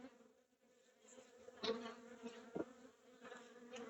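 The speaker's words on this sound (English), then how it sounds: "There's a lot of bees very," Agitated honey bees swarm over cross-combed frames during an early-season hive inspection. Their dense, steady buzzing drone swells in brief louder surges close by.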